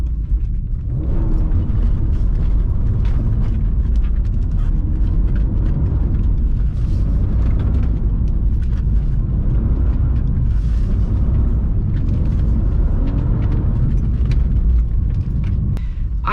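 A BMW E46 engine drifting, heard as a loud, steady roar and rumble that holds for the whole stretch, close and unbroken with no voices.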